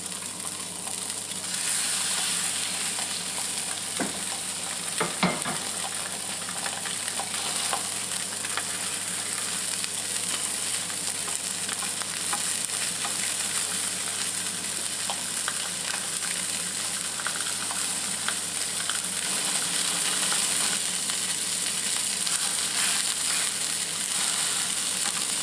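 A snapper fillet frying skin-down in olive oil in a hot pan: a steady, close sizzle and crackle that holds throughout, with a few brief clinks and stirring scrapes near the start.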